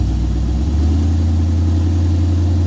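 A 1929 Ford Model A hot rod shop truck engine runs close and loud, a deep steady rumble with a brief rise in revs near the start.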